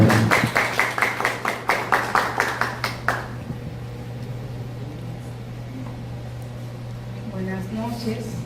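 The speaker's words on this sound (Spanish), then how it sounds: "un fuerte aplauso para ella" Brief burst of clapping from a small audience at an auditing standards presentation, about three seconds of steady claps, then fading into a quiet room hum with faint murmuring.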